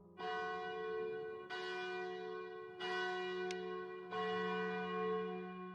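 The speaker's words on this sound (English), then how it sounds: "Why is the bell ringing now?" In Another Eden, a church-style bell tolls four times at a slow, even pace. Each stroke rings out rich and resonant and overlaps the decay of the one before.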